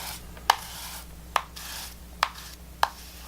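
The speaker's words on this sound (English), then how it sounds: "So then I take my oil pastel on the side and just rub across" Oil pastel dragged on its side across paper laid over a texture rubbing plate, four short scratchy strokes spaced roughly a second apart, close and fairly quiet against a low steady hum.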